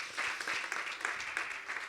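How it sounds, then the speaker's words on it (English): Audience applause at an interactive lean start-up session, a soft, steady patter of many hands clapping for nearly two seconds, fairly distant and even. "Round of applause, everybody."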